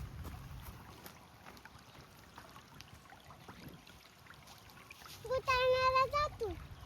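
A boat speeds across open water, its engine whine rising loud near the end over a steady rush of water and wind, with voices talking throughout.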